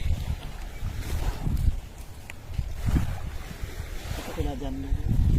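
A boat by the seashore, with wind buffeting the microphone over surging waves and water movement at close range, and a few soft voices partly under the noise.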